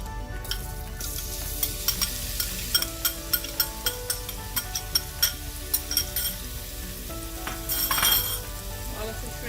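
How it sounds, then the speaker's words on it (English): Shrimp sauté in oil in a wok, a steady close sizzle with a run of sharp metallic clinks and scrapes from stirring, ending in a louder burst of frying. "I'm going to add 2 teaspoons of oil to start sauteing our shrimp."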